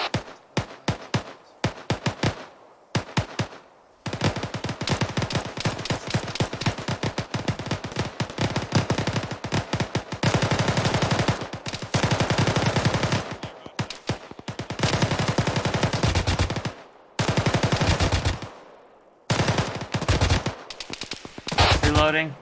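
An automatic rifle fires during squad training, with loud close single shots at first, then long sustained bursts broken by short pauses, dominating the scene.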